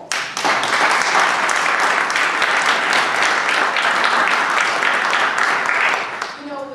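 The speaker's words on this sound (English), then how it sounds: "let's give you a round of applause" Sustained audience applause fills an award ceremony hall, a dense steady wash of many hands clapping for several seconds before tapering off.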